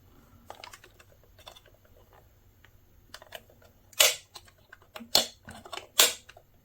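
Flap on a RESUN AF2003 automatic fish feeder being worked open and shut, giving scattered faint clicks and then three sharp plastic snaps close up in a quiet room.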